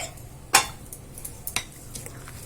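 A spoon scrapes and clinks against a bowl while spices are stirred into mango pickle, with two or three sharp knocks among soft scraping, close up and with no talking.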